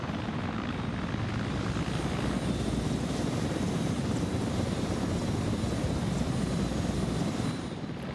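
A Mi-24 Hind attack helicopter in Arma drones with a steady, close rotor and engine roar that holds at constant loudness throughout, with no talk over it.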